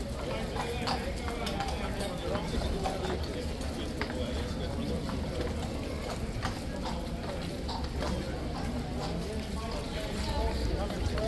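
A King's Guard horse in London clops its hooves on the street in a steady, fairly close rhythm, with crowd chatter and voices running underneath throughout.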